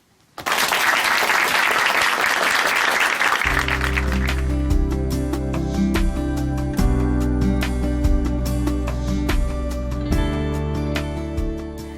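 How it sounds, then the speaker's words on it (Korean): Church audience applauds as a woman guest from a Chuncheon church is welcomed to the stage, loud dense clapping for a few seconds before swelling stage music takes over and continues beneath the fading applause. "춘천 한마음교회 이길자 자매님 박수로 모십니다"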